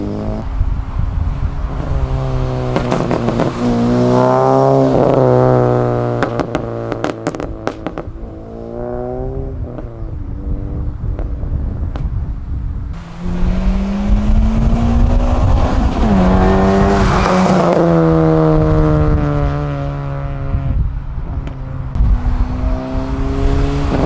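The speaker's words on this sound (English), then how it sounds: "that's the pop tune on the Civic Si" A 9th-generation Honda Civic Si with a pop tune roars past twice, engine rising and falling, with loud sharp pops and crackles bursting from the exhaust as it passes.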